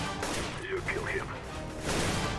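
Gunfire in a shooter game's bot practice sounds as a steady stream of loud shots, with a short voice-like wavering tone cutting through partway.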